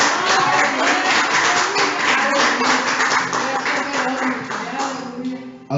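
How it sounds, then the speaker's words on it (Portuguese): A church congregation claps and applauds in a dense, sustained wash of hands that fades slightly toward the end, with voices mixed in beneath. "Aplauda o Senhor."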